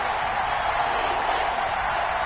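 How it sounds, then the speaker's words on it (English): A stadium crowd in a PS4 American football video game cheers in a steady, loud roar that stays even and unbroken, with no clear peaks. "That just means this crowd's going to get even louder."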